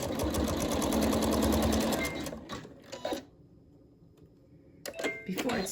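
An embroidery sewing machine stitches the raw edges of an appliqué with red decorative thread, a fast steady mechanical whirring that runs for about two seconds, stops, then briefly restarts, with a voice talking over it.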